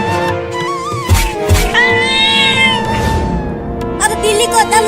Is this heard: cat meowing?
yes